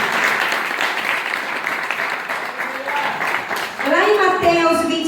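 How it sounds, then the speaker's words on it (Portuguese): Church congregation applauding during a youth camp service, dense sustained clapping that carries on under voices, with a singing or shouting voice rising near the end. "Quem pode aplaudir a Deus aí nesse momento?"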